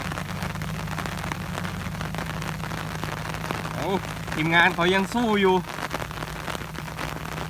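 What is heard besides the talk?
heavy rain in Surin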